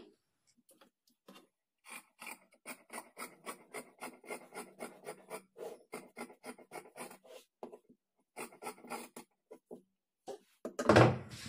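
Scissors cut fabric for puff sleeves close up, making a long run of crisp, rhythmic snipping and rasping strokes with a short pause partway through and a louder rustle of handled cloth at the end. No voices are heard.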